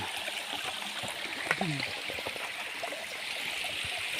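Steady rushing of a waterfall stream in the Philippines runs throughout at moderate level, with a brief voice breaking in partway.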